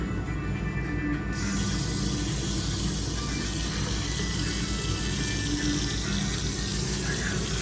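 Water pours steadily from a waterfall-style faucet into the kitchen sink of a 2025 CrossRoads Hampton 395BAM RV, a loud continuous splash and hiss with no talking.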